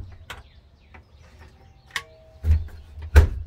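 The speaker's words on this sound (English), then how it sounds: "Doorbell works." An electronic doorbell chimes two-tone in a quiet room by a metal door: a sustained tone near two seconds, then louder broadband hits and rings toward the end.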